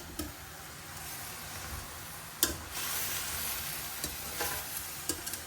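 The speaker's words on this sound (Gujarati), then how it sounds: "જો આપણે હવે બધા વેજીટેબલ ફાસ્ટ ગેસ અમે કૂક કરવા મૂકી દીધા છે" Mixed vegetables cooking on a high gas flame give a continuous sizzle, with a few sharp clacks of stirring spread through it, close and no voices.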